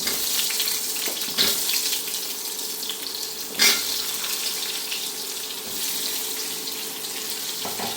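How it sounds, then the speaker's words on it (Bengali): Potato pieces frying in oil give a continuous hissing sizzle, with a couple of louder bursts as they are moved about; no voices. "এখন দিয়ে দেব আলুর টুকরোগুলো, একটু ভেজে নেব আগে"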